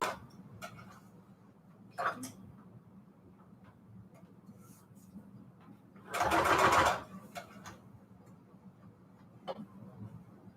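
Sewing machine stitching bedsheet ruffles and pleats in one short loud burst of rapid stitching, surrounded by quiet clicks and taps of the fabric being handled.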